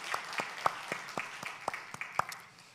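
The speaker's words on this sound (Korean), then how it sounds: "하나님께 영광의 박수 한번" Scattered applause from a church congregation after a call to praise God, a dozen or so distinct claps spread unevenly over a few seconds, fairly faint and thinning out toward the end, with no voices over it.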